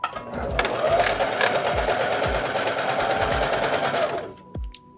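A Janome HD5000 sewing machine runs a short burst of forward and reverse stitches, a close, steady rapid mechanical whir lasting about four seconds, then stopping with a few clicks.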